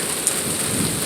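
Heavy rain pours steadily through a severe thunderstorm, a dense, constant hiss with a faint rumble low underneath, close and unbroken for the whole stretch with no voices.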